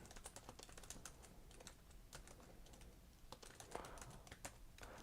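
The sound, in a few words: typing on a computer keyboard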